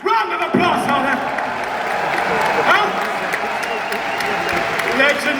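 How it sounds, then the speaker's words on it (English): A concert crowd at a show in Berlin applauds the orchestra and choir, with broad clapping and some cheering mixed under a voice. "Round of applause for them."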